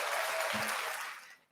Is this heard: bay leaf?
no